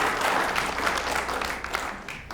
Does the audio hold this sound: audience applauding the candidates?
yes